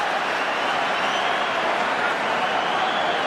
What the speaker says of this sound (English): suddenly the crowd's got right into this game